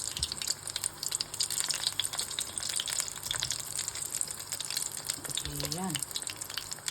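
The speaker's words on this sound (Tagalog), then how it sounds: "Ayan siya, prito natin. Slow heat lang po tayo." Glutinous rice flour and cassava snack fries on low heat in oil, a constant soft sizzle and crackle up close, with a brief voice near the end.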